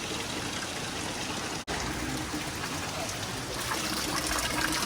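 Fresh spring water at Makhuntseti waterfall near Batumi pours in a steady, close, continuous rush and gush, with one very brief dropout partway through, and no talk over it.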